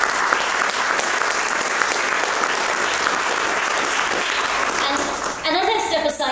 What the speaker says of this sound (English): I want to give a special thanks to his family and a round of applause.